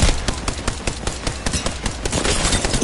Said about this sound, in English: I'm shooting his team.